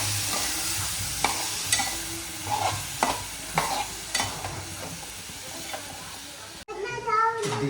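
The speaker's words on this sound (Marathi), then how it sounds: "स्लाइस केलेली कंठवली मस्तपैकी परतून घेत आहे" Sliced kantola (spiny gourd) being stir-fried in a pan, a steady soft sizzle broken by repeated sharp scrapes of the spatula, close and fairly quiet, with a brief change in the final second.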